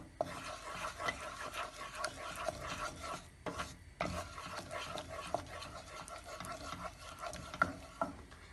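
Flour being stirred briskly into melted butter in a pan for milk helva, a steady close scraping and rasping with irregular strokes and brief pauses, no talk.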